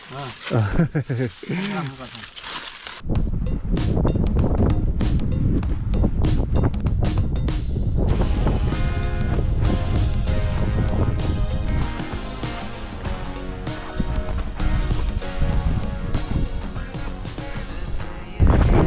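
A strong wind blows during a high-altitude trek in Mustang, Nepal, near 4,020 m. It is a loud, steady roar that runs almost the whole time, after a quieter, gustier opening.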